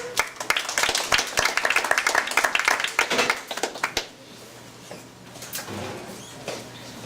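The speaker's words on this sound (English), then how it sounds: "Please give her a round of applause." A community civic association meeting audience claps for a newly elected neighborhood commissioner, a dense burst of handclaps for about four seconds that then stops, leaving a quiet room hum with a faint stray sound.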